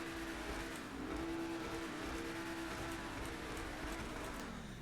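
A Pegassi Ignus supercar from GTA Online runs with a steady, droning engine note and a faint tonal whine, holding at an even, moderate level throughout without clear rev spikes.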